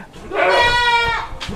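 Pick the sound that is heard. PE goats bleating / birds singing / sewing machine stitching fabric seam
PE goats bleating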